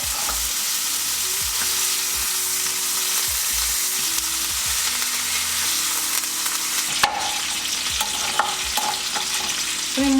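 Steak frying in butter in a pan gives a steady close sizzle with faint stirring and scraping, and a few brief clinks near the end; no one talks.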